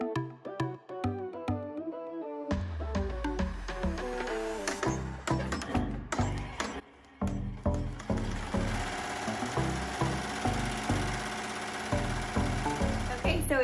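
A Melco embroidery machine stitching appliqué onto a sweatshirt in an 8x13 Mighty Hoop, a rapid, loud mechanical clatter of needle strokes that starts sparse, then runs steadily and close with a brief pause midway.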